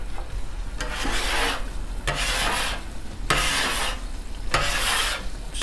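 A metal spatula scrapes fried potato bits across a Blackstone griddle in four rhythmic, rasping strokes, each a bright scraping sweep over a soft background sizzle, close and clear with no talking.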